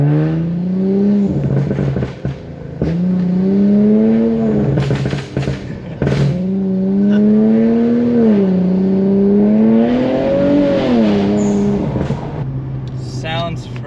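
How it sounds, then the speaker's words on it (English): A modded Infiniti Q50 with blow-off valves and downpipes, heard with the windows down, accelerates hard. Its loud, close engine drone climbs in pitch through several repeated surges, dropping between pulls as it spools and shifts. "Sounds freaking great with the blow-off valves. You can hear a little bit of the turbo spooling up with the downpipes."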